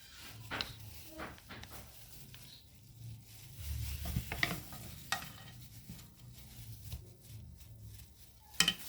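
Soap batter is pressed firmly into a mold by hand, giving faint, close, irregular squishing and soft tapping thuds with quiet pauses between them.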